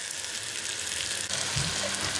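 Masala sizzles and fries in a pan for dal, a steady close crackling hiss that continues unbroken throughout.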